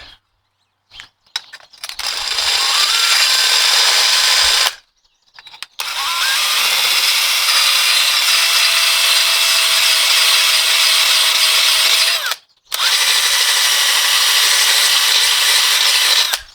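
A drill-driven sharpener grinds the edge of a lawn mower blade in long, steady, loud bursts, with a brief pause of silence in between and no talking.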